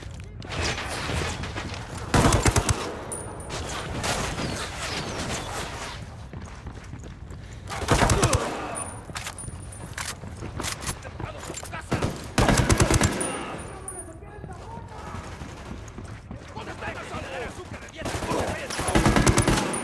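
Gunfire erupts in the video game Tom Clancy's Ghost Recon Wildlands, with several loud bursts of automatic weapon fire spread across the scene, mixed with quieter ambient noise and occasional voices talking.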